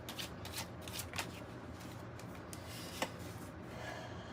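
Tarot cards are shuffled with a soft continuous riffling and rubbing, close and fairly quiet, with a couple of light taps and no voices.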